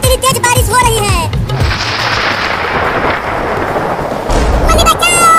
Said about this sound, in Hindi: बादल गरज रहा है और बिजली भी गिर रही है।